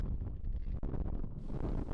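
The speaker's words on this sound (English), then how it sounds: "The weather here at Croydon, as you can see, is very, very windy." Strong wind buffeting the microphone at an outdoor kart racing track in Croydon, a low, gusty rumble that churns without pause.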